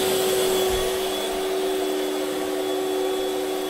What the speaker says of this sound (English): Now we can check how much the vacuum cleaner sucked up.